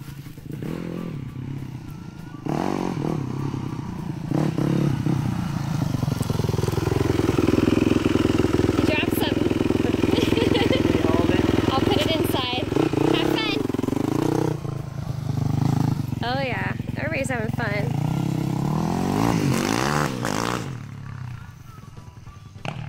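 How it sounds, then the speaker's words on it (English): Close dirt bike engine on a ride along a dirt road, droning and revving continuously for a long stretch with clattering, with people speaking over it at the start and end. "You said go for a dirt bike ride."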